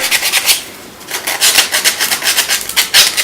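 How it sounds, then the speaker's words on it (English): Coarse 80-grit sandpaper rubs along the sides of a wooden Christmas ornament in quick, rhythmic back-and-forth rasping strokes, close and clear, with a short pause near the start and no talking. "This is 80 grit. And it's just going to soften the sides so they're not so rough."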